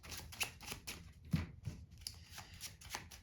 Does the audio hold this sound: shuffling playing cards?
yes